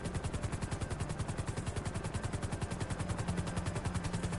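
Rapid rhythmic thudding of a helicopter rotor mixed with continuous automatic gunfire in a video game, loud and steady throughout with no talking.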